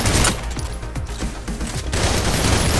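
Rapid sustained gunfire from the video game Snowbreak Containment Zone, loud, dense bursts of shots filling the whole stretch with no talk over it.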